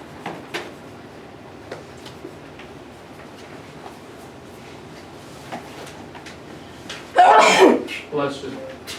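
One sharp sneeze bursts out loud near the end of a quiet indoor stretch, after scattered faint taps and clicks, alone without talk over it.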